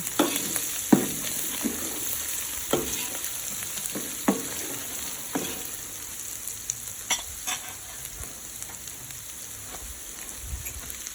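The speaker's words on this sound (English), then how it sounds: "2 tablespoons of turmeric powder. Give that a good stir." Spices with turmeric powder sizzle in hot oil for a South African beef curry, with steady frying hiss and repeated scraping stir strokes of a spoon in the pan, close and fairly loud.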